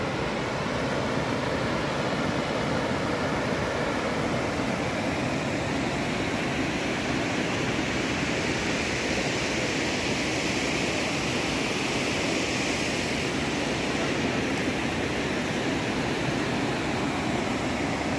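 A mountain river in the Himalayan foothills near Ukhimath and Ransi village rushes steadily, a dense broadband roar that holds unchanged and close for the whole stretch with no voices.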